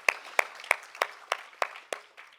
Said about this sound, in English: let's give our speakers again one more big round of applause for their excellent presentations and staying on time